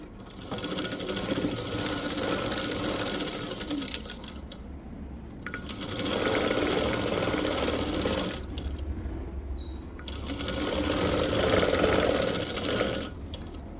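Sewing machine running in continuous bursts while stitching a loose hem on one-inch folded cloth for a large blouse sleeve, three steady whirring runs separated by brief pauses, close and loud with no talk.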